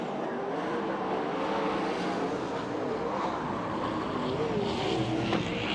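USAC/CRA sprint cars race on a dirt track at Ventura, California, a dense, steady roar of engines filling the whole stretch at constant loudness with no break.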